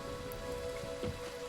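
Steady rainfall patters softly across the opening area of the video game Ori, a faint continuous wash with light drops and no voices.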